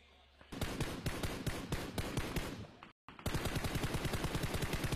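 Rapid automatic gunfire in the PUBG battle royale game, sprayed at a vehicle during a PEL 2021 Season 4 Grand Finals match: loud, dense bursts of shots in quick rhythm, briefly cut off, then resuming as a steady stream.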